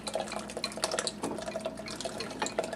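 Liquid poured steadily into a hot sugar mixture while making caramels, giving a continuous close-up splashing, bubbling sizzle with a few brief brighter spatters and no talk.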